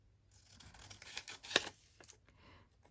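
Scissors snip through a book page during a paper craft project, a single sharp close cut standing out amid soft paper handling sounds at low level, with no talk.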